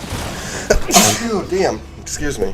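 One sharp sneeze bursts out close to the microphone, followed by someone talking briefly in a casual indoor setting.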